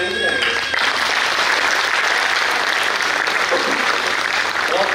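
Audience at a Hindi poetry recital breaks into loud, sustained applause, a dense wash of many hands clapping steadily throughout, with a few voices faintly audible underneath.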